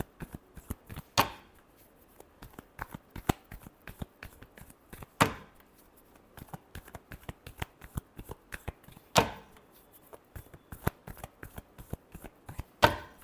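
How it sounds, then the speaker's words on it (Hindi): Tarot cards are shuffled in soft, rapid riffles and taps, with a louder flurry every few seconds, quiet and close in an otherwise silent room. "Last shuffle."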